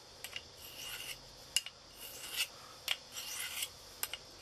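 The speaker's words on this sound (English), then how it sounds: "As you can see, the blade is definitely going up against the stone" A knife blade stroked across a natural sharpening stone, giving repeated short, bright scraping rasps in an uneven rhythm, close and fairly quiet with no talk.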